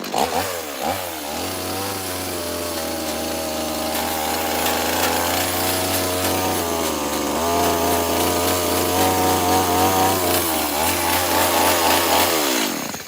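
A chainsaw carving a wooden bear runs loud and close, droning steadily for about thirteen seconds with slight rises and dips in engine pitch as the blade bites into the wood.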